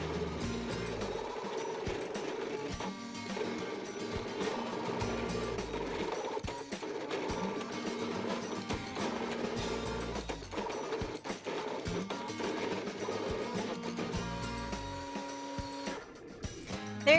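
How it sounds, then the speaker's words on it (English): A ScanNCut fabric cutter drawing with a pen makes a continuous mechanical whir with rapid stepping and clicking, a steady motorised buzz that shifts in pitch as the pen head moves. It runs close and unbroken for about seventeen seconds with no speech. "I'm gonna press start and the machine is gonna start drawing for me."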